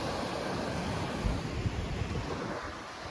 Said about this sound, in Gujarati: દરિયા કિનારે.